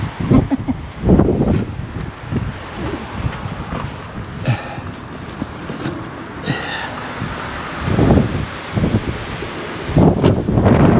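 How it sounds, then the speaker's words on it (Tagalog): Strong wind buffets the microphone in loud, uneven gusts, with a rustling roar that swells and fades throughout. "Kasi yun, ang lakas ng hangin."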